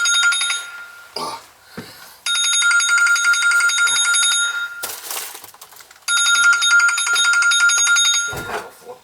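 Telephone ringing with an unknown caller during an inspection of a flooded daycare center, two long bursts of bright electronic ringtone separated by pauses, fairly loud and close, with a few handling knocks.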